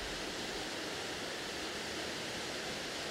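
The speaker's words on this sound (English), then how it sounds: "is that a waterfall behind you, Kev?" A waterfall in a zoo's rainforest exhibit gives a steady, broad rushing roar, constant and fairly faint, with no voices.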